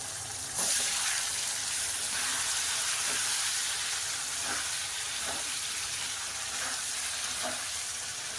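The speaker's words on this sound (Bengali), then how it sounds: "কষে নেব" Mango chicken curry sizzles and fries steadily in a pan with a splash of water and spices, a continuous loud hiss broken by a few soft stirring scrapes, with no talking.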